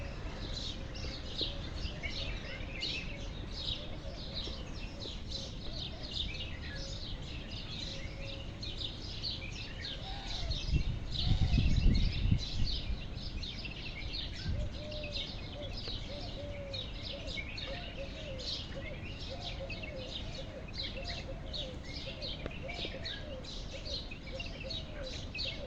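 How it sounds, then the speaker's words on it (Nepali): Many birds chirp and tweet at a steady distance through a cloudy morning, a continuous dense chorus of short calls with a brief low rumble partway through. "बिहानी सँगसँगै चराहरूको चिरबिराट सँगसँगै"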